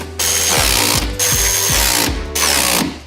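Suspension damper bolts being tightened on a car with a ratchet or power tool, a loud close-up run of rhythmic clicking and whirring in three bursts with brief pauses between.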